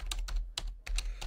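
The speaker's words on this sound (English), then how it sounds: "what you're seeing here is typing a password and talking at the same time" Fingers tap out a password on a computer keyboard in a quick, close, uneven burst of about half a dozen distinct key clicks.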